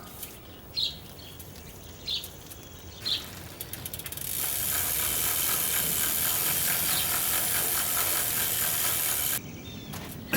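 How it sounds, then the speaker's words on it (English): Degreaser sprays onto a bicycle chain as the bike hangs by its front wheel, first a few short bursts, then a long steady close hiss lasting several seconds before stopping, with a final short spurt. "first thing we're going to do is degrease the chain"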